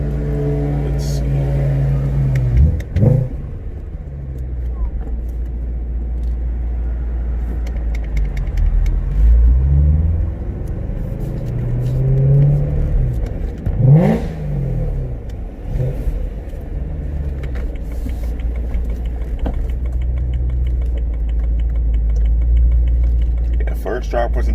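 A supercharged car engine idling then revving in a few rising and falling sweeps, loud and close, with people talking over the low engine rumble.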